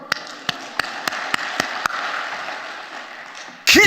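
A few separate, sharp hand claps, about eight evenly spaced and fairly close, ring out over a murmuring church congregation at a healing revival service. A louder burst of voices comes in at the very end.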